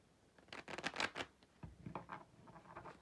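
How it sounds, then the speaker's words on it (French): Oracle cards laid down and covered on a table, a quick cluster of soft papery slaps and shuffling rustles, then lighter scattered taps, close and quiet. "Avec l'oracle des miroirs, je vais recouvrir ces cartes-là"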